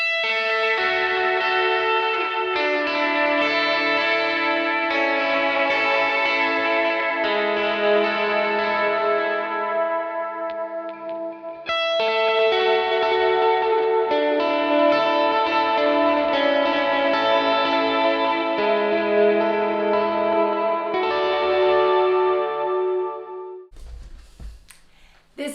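Electric guitar runs through a Neural DSP Mateus Asato Archetype amp plugin with a lush worship-style tone, thick chords washed in chorus, delay and reverb that fill the space, played continuously for about twenty seconds before a brief pause and a short noisy tail.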